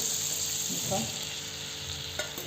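Oil heats in a pan for a spicy wam fish curry with a steady, close, fine sizzle and faint crackle, broken by a couple of brief clinks.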